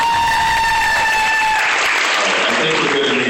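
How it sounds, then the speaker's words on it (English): Audience applause rising after a reading event, broad clapping noise swelling through the second half and continuing steadily, with a few tonal sounds fading out early. "You may applaud now."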